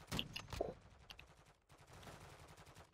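Automatic gunfire in Call of Duty: Modern Warfare II, with loud bursts of rapid shots up front, a brief pause, then a quieter second stretch of distant firing.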